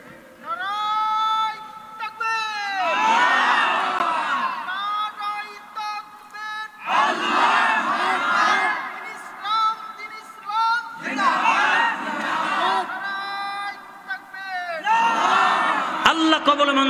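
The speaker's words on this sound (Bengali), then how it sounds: "একজন তাকবীর দেন তো, একজন তাকবীর দেন, জোরে জোরে তাকবীর দেন, হাত উঁচু করে রাখেন" A sermon crowd answers a call with loud takbir shouts of Allahu Akbar, rising in repeated massed bursts that alternate with a single leading voice, all close and reverberant.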